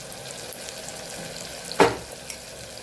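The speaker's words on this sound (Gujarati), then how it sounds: "બધું સરસ સાતડી લેવાનું છે મસાલો" Masala spices sauté in a pan with a gentle continuous sizzle, broken by a single sharp clatter or scrape of a spoon partway through.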